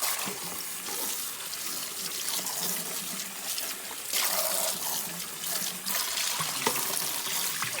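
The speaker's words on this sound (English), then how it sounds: "now I'll get them rinsed real good" Tap water runs steadily while dishes are rinsed by hand in a sink, a constant close splashing rush with small shifts as items pass under the stream, no voices.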